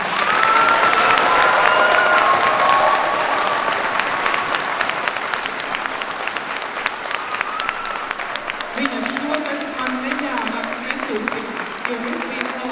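A concert audience at a Lāčplēsis Day concert breaks into loud, dense applause from a large crowd, which fades after a few seconds into lighter scattered clapping as a voice begins talking over it.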